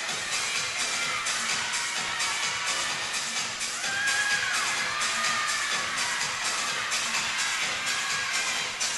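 Home crowd cheering and shouting steadily throughout a women's college gymnastics meet at Kent State, a dense, continuous roar of voices with rising whoops.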